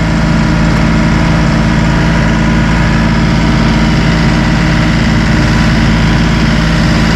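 A Massey Ferguson turbo compact tractor from the 1M.35/1M.40 eHydrostat platform idles at lowered RPM, giving a loud, steady, deep rumble with a constant even drone and no voices.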